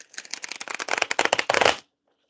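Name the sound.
shuffling tarot/oracle cards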